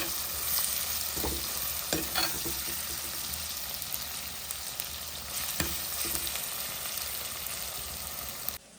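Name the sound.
vegetables sautéing in a pan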